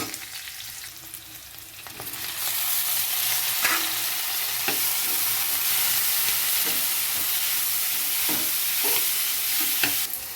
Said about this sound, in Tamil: அதோட தேவையான அளவு கல் உப்பு போட்டு வதக்கி விட்டால் தான் தக்காளி நல்லா வதங்கும்